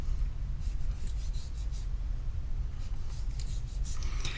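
A knife slices and scrapes fat from a brisket in continuous close rubbing strokes, loud and steady with a faint crisp edge, with no talking.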